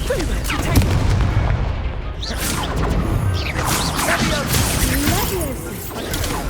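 Hogwarts Legacy combat in which the Confringo fire spell is cast, producing a dense, loud stretch of whooshing blasts and crashing impacts over continuous game noise.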